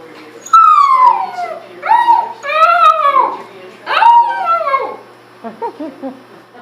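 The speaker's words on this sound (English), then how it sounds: "This is a howl from Grizzer" Captive wolf howling in a long drawn-out series of rising and falling tonal calls, near and loud, with several overlapping voices toward the end and short yips trailing off.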